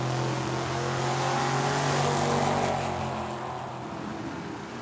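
Drag racing cars, including a Mustang, launch down the strip at Tucson Dragway with a loud, steady engine roar that swells and then slowly fades into the distance, with no talking.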